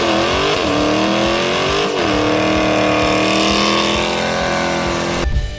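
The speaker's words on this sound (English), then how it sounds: "Dodge Charger SRT Hellcat, the most powerful behemoth." Dodge Charger SRT Hellcat muscle car engine roaring loudly and continuously, its pitch climbing and dipping as it revs, then cutting off abruptly at the end.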